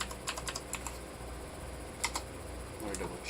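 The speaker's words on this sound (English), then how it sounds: "I'm just typing again." Fingers type on a computer keyboard in quick, irregular bursts of sharp clicks at close range over a quiet room hum, pausing briefly mid-way before a final flurry of keystrokes.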